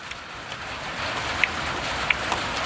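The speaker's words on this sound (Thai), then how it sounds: "อยู่กลางแจ้งฝนตกแล้ว" Rain falling outdoors, a soft, steady patter with a few sharper drops tapping nearby, fairly faint and continuous for a few seconds.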